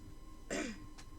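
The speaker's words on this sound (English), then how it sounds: "I am very sorry for all the coughing." A single short throat-clearing cough, fairly quiet, from someone with sore lungs, followed by a faint second catch, over a steady low background hum.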